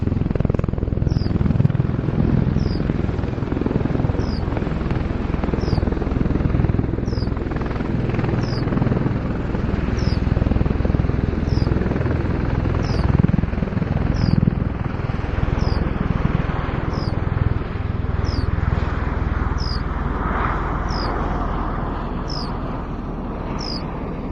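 A rotor aircraft flies at the Duxford air show with a steady, loud rotor and engine roar that holds at a fairly even level throughout, and faint regular chopping is audible in the background.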